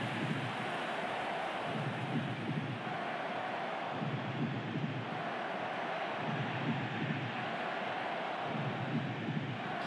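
Steady rain hissing continuously at a moderate level over a soccer stadium before kickoff, with a low rumbling wash underneath and no clear individual drops standing out.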